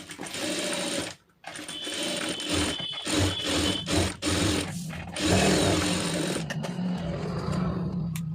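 A sewing machine stitches an Aari blouse in fast, whirring bursts broken by short pauses and a brief stop near the start, heard close and loud.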